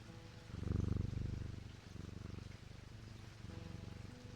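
A cat purrs while being petted in the video game Strange Antiquities. The purr is a soft, continuous, rhythmic rumble that swells slightly and pulses through a few breaths.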